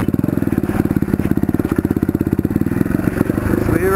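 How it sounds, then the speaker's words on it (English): A motorcycle with a broken cable rolls downhill left in gear, its engine whining with a loud, rapid, steady throbbing pulse that slowly smooths out near the end. "Just leave her in gear and let her whine."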